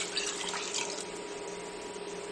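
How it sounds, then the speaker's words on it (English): Water runs steadily into a pot of simmering coconut chickpea curry, a soft, close pouring stream with a faint hum behind it. "we're going to need to add some more water"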